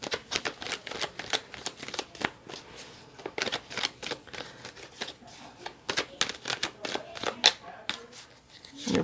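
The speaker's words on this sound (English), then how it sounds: "I want to pull a couple more cards here." Tarot cards are shuffled and pulled close up, a rapid series of crisp riffling flicks and slaps in irregular bursts, with faint speech at times.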